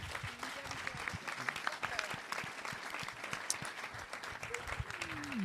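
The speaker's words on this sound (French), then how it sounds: "On peut applaudir l'ensemble des conférenciers dans un premier temps" An audience at a scientific colloquium on trail and ultra-trail running applauds the conference speakers, a steady mid-level wash of clapping with some crowd voices and talk mixed in throughout.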